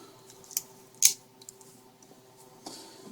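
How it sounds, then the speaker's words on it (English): A box cutter knife slicing into a laptop power supply cable: a few sharp close snips and scrapes, one louder cut near the start, then faint rustling in a quiet room. "a box cutting knife."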